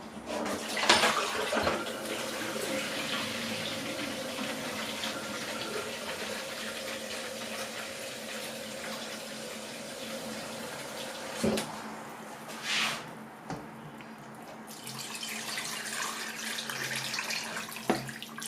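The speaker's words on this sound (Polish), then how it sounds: "zalewam zimną wodą" Cold tap water pours into a pot over a charred onion and three carrots for homemade broth, a continuous rushing stream for about eleven seconds, then a few kitchen knocks and a softer trickle.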